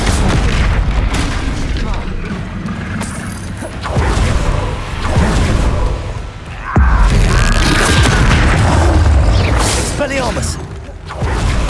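Bombarda spell blasts from the video game Hogwarts Legacy boom heavily again and again, loud and close, over dense combat noise with crashes and whooshes, while a voice speaks spell names over the action.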